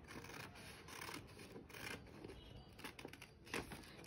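Scissors cutting through scrape-painted paper produce quiet repeated rasping snips and crinkly rubbing, close and soft, with no talk.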